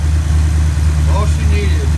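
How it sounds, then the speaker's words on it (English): A 1969 Pontiac Firebird's engine idles smoothly up close, a steady low rumble with an even rhythm, while a voice speaks over it briefly. "Smooth idle. This runs awesome."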